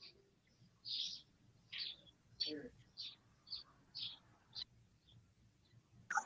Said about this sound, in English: We can hear his birds in the background.